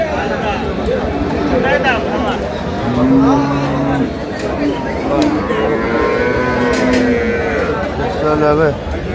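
Cows with calves at the busy Aftabganj cattle market give a couple of low, drawn-out moos that rise above a dense din of crowd chatter and nearby talk.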